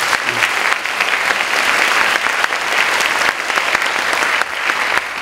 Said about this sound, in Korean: 우리 축복 선포식을 하신 세 가정께 다시 한번 축하의 박수 부탁드리겠습니다.